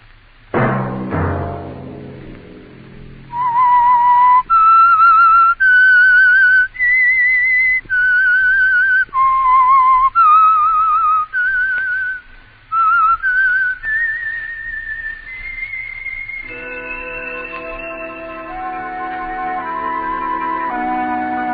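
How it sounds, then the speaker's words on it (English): A lone whistler performs the theme tune of The Whistler radio program, sustained clear melodic notes in a slow eerie line, loud and close, ending on a held tone over a soft orchestral chord. "Let that whistle be your signal for the Signal Oil program, The Whistler"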